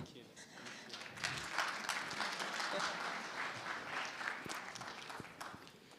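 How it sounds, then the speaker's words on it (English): Applause from a conference audience at a national ICT summit as a broadcasting officer takes the stage, moderate clapping that swells and fades, a little distant, with faint murmurs. "Let's clap for him."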